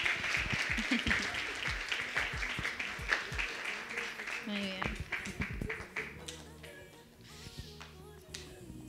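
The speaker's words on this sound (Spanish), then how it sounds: "Un aplauso ahí." A church congregation applauds during a Sunday service, a dense patter of clapping that fades after several seconds while voices talk over it.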